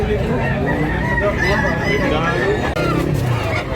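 Rooster crows and clucks carry through a crowded chicken market in Tabunok, Cebu, set against constant background chatter and hubbub from sellers and buyers.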